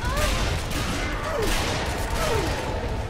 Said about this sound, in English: I'm shooting them as much as I can.